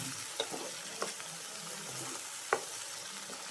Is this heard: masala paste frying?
yes